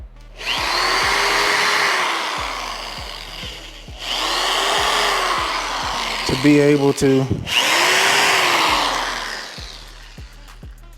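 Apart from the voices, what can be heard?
power drill drilling a hole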